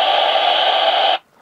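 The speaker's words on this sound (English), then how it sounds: "A VHF radio is all the time going to sound like this." A marine VHF radio with its squelch open gives a loud, steady wash of static hiss for about a second, then cuts off abruptly into near silence.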